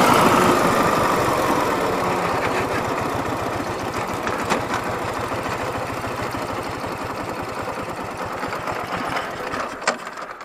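A Ural motorcycle engine, running poorly, idles with a steady, throbbing chug, loud and close, then falters and stalls near the end, leaving near silence.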